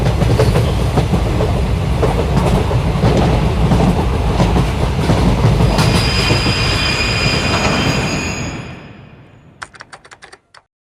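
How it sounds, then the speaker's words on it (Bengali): A train rolls on through darkness at night, a loud, steady rumble and clatter of wheels and carriages that fades out toward the end, leaving a few faint clicks. "কোনো আলোর হদিসই নেই অন্ধকার ভেদ করে এগিয়ে চলেছে ট্রেনটা"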